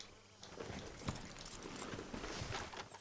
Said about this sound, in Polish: Strasznie dużo koni tu jest, nie? Jest mój piękny konik.